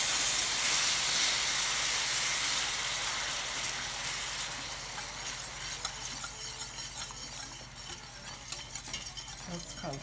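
Gravy bubbling in a pan sends up a steady steam hiss and sizzle with faint stirring scrapes, close and continuous, easing slightly toward the end.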